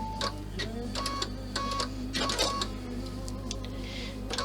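A sewing machine stitching vinyl pieces onto a compact bag, running in short mechanical bursts of rapid needle clatter separated by brief pauses, close and clear over a steady low hum.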